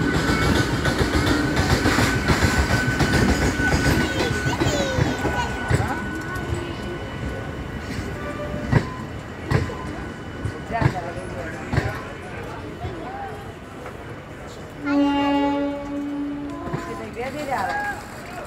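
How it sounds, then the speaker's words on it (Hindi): A Kota–Bina MEMU passenger train arriving at Shadhora railway station, its carriages rumbling and clattering steadily along the track amid crowd noise and voices, with a brief horn-like tone near the end. "कोटा बीना मेमो ट्रेन आज शाडोरा रेलवे स्टेशन पर पहुंची"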